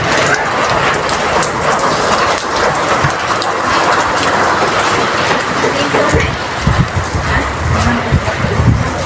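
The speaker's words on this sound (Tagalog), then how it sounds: "Lumakas na ang ulan." Heavy rain pours down steadily, a loud dense hiss of drops beating on surfaces close by that keeps going for about nine seconds, with a few heavier thumps near the end.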